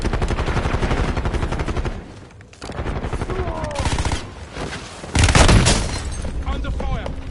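Bursts of automatic gunfire in a Warzone match, heavy and close with a brief lull, then a louder volley, mixed with booms and in-game voice callouts.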